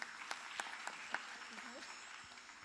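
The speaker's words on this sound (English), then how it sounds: "Here we have one more round of applause for Nandana," Audience applause at a Mohiniyattam dance recital, a faint, thin patter of clapping from a modest crowd that fades off within a few seconds.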